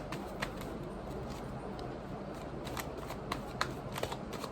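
Tarot cards are pulled from the deck and handled, giving soft papery flicks and light taps spread irregularly over a quiet room hiss, faint and close.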